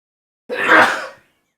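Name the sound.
sneeze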